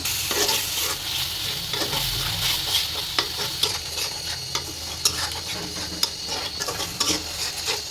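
A spice paste of turmeric, chili and salt fries loudly in a pan for a chicken curry. The utensil stirs and scrapes repeatedly, and sharp clinks and taps sound over the constant sizzle.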